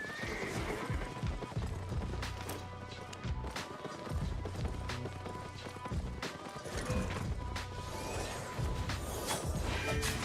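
In the Albion Online fantasy game, horse mounts neigh and whinny amid clattering hoofbeats and clashing battle impacts, loud and busy throughout.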